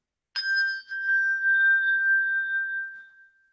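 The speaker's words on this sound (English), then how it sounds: "If I ring this bell" A single handbell is struck once, giving a bright clear ring with a steady, shimmering sustain that slowly fades over about three seconds. It is heard alone, with no talking.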